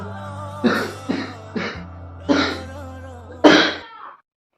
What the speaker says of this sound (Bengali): আমি কথা বলছি তোমাদের সাথে, এখন আমার কাশি হচ্ছে।